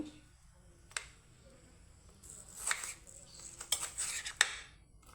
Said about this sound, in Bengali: তো পেঁয়াজটাকে আমি কেটে নেব